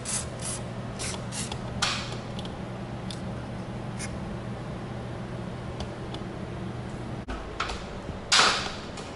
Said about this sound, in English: this too, you gotta spray it a little bit. Both sides.